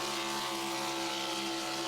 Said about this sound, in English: Love the sound of that V8 motor singing.